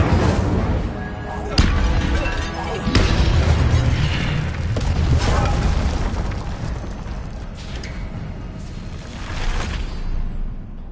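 Spells are cast in the Hogwarts Legacy video game, including the fire spell Incendio. Continuous booming, whooshing blasts and sharp impacts rumble loudly and densely throughout with no talking.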